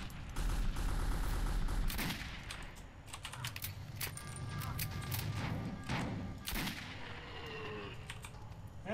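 Gunfire from the first-person shooter Metro 2033 comes as bursts of sharp shots and clattering impacts over a busy game soundscape, loud and fairly close.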